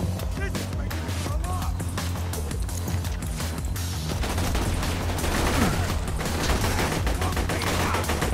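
Continuous loud automatic gunfire in Borderlands 2, a dense stream of close shots rattling without pause, building slightly in intensity midway.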